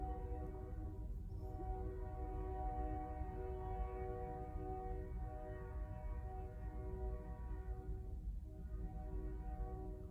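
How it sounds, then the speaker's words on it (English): A loud train rumbles past nearby at night, a continuous heavy roar with strong tonal horn-like drones holding steady throughout, no pauses. "Oh, there's that train. I'm telling you,"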